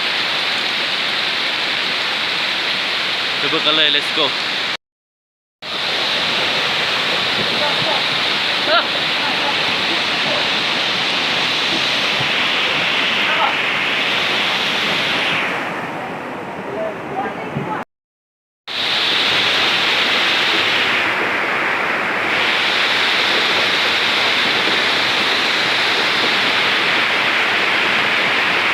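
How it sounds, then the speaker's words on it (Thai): Heavy rain pouring down on a flooded village in Laos, a loud, dense, continuous roar of rainfall and rushing water close by, with someone speaking briefly near the start and two short breaks in the sound. "มาเบิ่งบรรยากาศฝนน้ำนองเนาะอยู่ที่บ้านแตบ"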